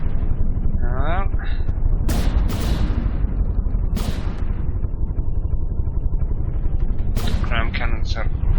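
Naval cannons boom in a video game sea battle, several heavy blasts in quick succession with long rumbling decays, mixed with whooshing and splash-like effects.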